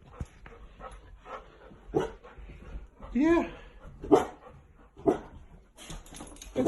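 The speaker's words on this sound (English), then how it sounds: "That's a puppy." A puppy gives a few short, high yips and small barks at spaced intervals, fairly close, interspersed with people talking and a brief whimpering cry.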